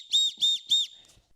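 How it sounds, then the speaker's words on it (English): Safety whistle built into a backpack sternum strap buckle, CTactical CT21 v3.0, blown in three short, loud, shrill blasts in a steady rhythm, then silence. "on the buckle, there is a built-in safety whistle."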